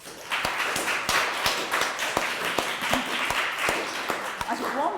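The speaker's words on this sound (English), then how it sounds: "And applaud in the traditional way." An audience applauds after a research presentation at a university, a sparse round of individual claps with distinct sharp strikes, fairly close, with a voice murmuring underneath.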